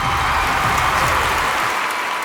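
A large event audience fills the room with loud, dense, continuous applause and crowd noise, tapering slightly at the end.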